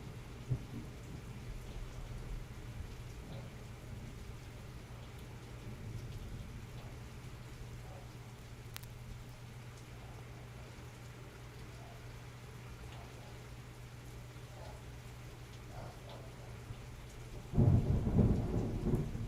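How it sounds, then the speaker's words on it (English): Rain falls steadily with rolling thunder throughout, a constant low rumble under the patter, swelling to a loud thunder crash near the end. "Loud thunder."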